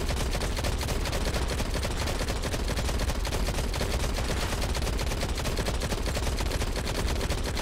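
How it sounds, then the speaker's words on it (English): Sustained rapid automatic gunfire from a weapon in the mobile shooter Modern Combat 5, loud and continuous for the whole stretch with dense overlapping shots and no talking. "this gun is amazing for suppressing fire"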